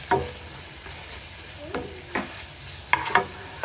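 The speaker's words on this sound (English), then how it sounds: "just mix everything together. So we have the paprika." Spoon stirring paprika into short rib ingredients in a bowl, a few short scraping and clinking strokes at irregular intervals, close and moderately quiet, with a faint sizzle beneath.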